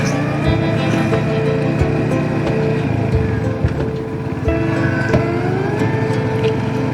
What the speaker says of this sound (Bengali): যে রাস্তা দিয়ে আমরা এখন বাইক চালাচ্ছি।